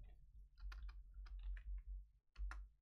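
Keys clatter on a computer keyboard in short bursts of clicks while a character name is typed in for the game Epic Seven, fairly close and with no talking.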